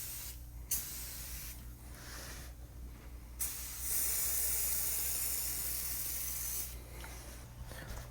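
Aerosol insecticide sprayed along the tufts of a bed in bursts of hissing spray, with a long continuous blast in the middle, close and fairly loud over a steady low hum.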